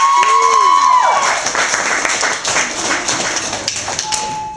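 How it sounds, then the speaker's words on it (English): Applause and scattered cheering from an audience at an elementary school event, loud at first and gradually tapering off, with a whistle near the start. "Round of applause."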